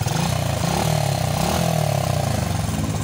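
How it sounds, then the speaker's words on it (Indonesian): An underbone motorcycle engine runs after repair of a seized engine, idling close and loud with a steady pulsing putter through the whole few seconds and no talking over it. "Motor ini kembali bisa hidup."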